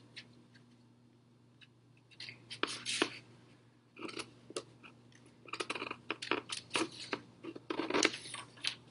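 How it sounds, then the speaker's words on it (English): Scissors snip paper along tessellation lines, a quiet close series of irregular crisp cuts and crunches over a faint steady hum, growing busier toward the end. "So cut down the lines of the tessellation"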